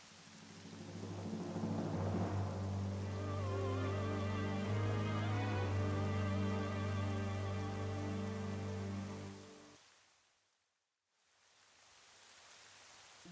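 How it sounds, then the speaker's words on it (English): Rain falling in the Zelda Twilight Princess video game, a steady wash of drops under a low droning game score, which cuts out briefly near the end before the rain resumes alone. "What a horrible day for rain."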